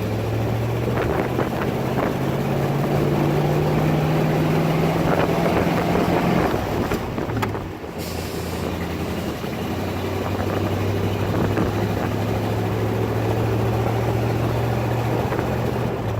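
A 1948 Allard L Type's engine hums and drones steadily during a test drive, with wind noise throughout and a brief dip in the middle as the gears are shifted before the steady tone resumes.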